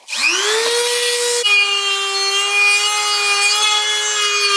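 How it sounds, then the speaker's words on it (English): Dremel rotary tool grinding a notch into a new lip for a three-piece wheel, a loud, high, sustained whine that rises as it spins up, then holds a steady pitch. "I'm gonna have to take a grinder to my new lips and grind out a notch"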